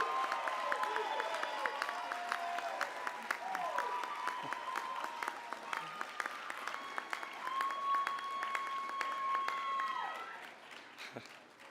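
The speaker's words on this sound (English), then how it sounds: "let's give a big round of applause to our newest" Steady audience applause fills a college commencement ceremony as the new graduates are honored, a sustained wash of clapping with scattered cheers and some tonal sounds over it, fading out near the end.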